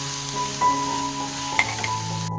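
Chutney ingredients frying in a pan for paddu chutney, a steady close sizzle with faint stirring scrapes and a couple of brief clinks, no voices.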